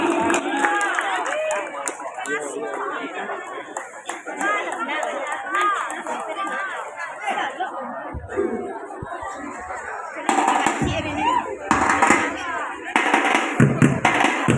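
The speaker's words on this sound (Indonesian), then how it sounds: "Tepuk tangan BPS Seroja." A crowd at a silek martial arts performance by young Minangkabau fighters chatters and shouts loudly, with bursts of clapping and cheering breaking out toward the end over the continuous hubbub.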